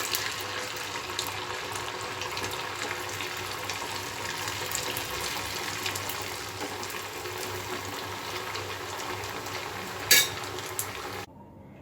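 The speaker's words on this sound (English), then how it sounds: "remaining tikki also we have to fry like this" Rice flour tikki frying in hot oil, a steady dense sizzle and crackle running evenly throughout, fairly loud and close, with a brief sharp spike near the end before it cuts off.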